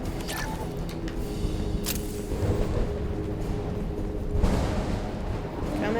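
Gunfire and explosions in the video game Mass Effect 2, a dense run of booming blasts and rumbling impacts that swells around the middle and again near the end, with broadband bursts over a steady low roar.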